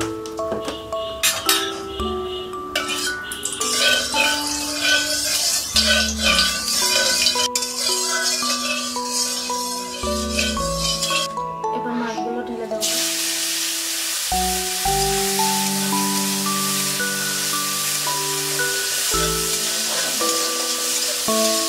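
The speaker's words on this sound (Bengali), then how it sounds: "এবার চিংড়ি মাছটা ভেজে নেব।" Shrimp frying in a pan for a coconut shrimp bhuna dish, with steady loud sizzling hiss and occasional clinks of utensils over background music.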